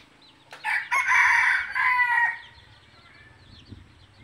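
A red junglefowl (labuyo) rooster gives one loud, close crow that rises and holds for almost two seconds, then trails off into quiet background noise.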